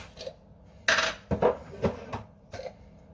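A metal spoon scrapes and clinks inside nearly empty peanut butter jars, several close, sharp scraping strokes and knocks in an irregular rhythm with no talk.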